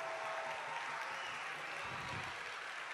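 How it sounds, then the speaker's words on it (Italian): Faint, distant applause from an audience for a youth orchestra after a performance at an event, a steady wash of clapping with no clear talk. "fare un grande, grande applauso ai ragazzi di questa meravigliosa orchestra"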